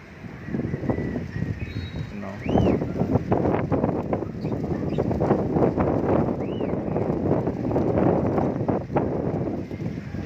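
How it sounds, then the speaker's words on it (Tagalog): Strong wind roars and buffets the microphone steadily throughout, with rustling gusts and faint distant chirps underneath. "ang lakas ng hangin dito mga idol"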